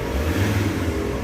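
A Ford Ranger engine runs at around 800 RPM during an oil flush, a loud, close, steady low rumble with no pauses.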